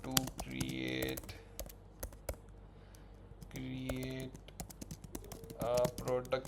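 Someone types a prompt on a computer keyboard in rapid bursts of key clicks, pausing between runs, with a spoken voice in the background.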